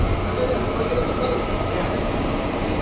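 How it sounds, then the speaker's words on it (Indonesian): A KRL electric commuter train on the Bogor line rumbles steadily close by, a continuous mechanical roar with faint rail noise and no distinct horn. "Tuh masih ada ya KRL tujuan Jakarta Kota"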